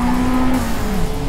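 Toyota AE86 braking hard on a track in Forza Motorsport, a loud engine note dropping in pitch as the car slows sharply, with a brief tonal whine fading out partway through.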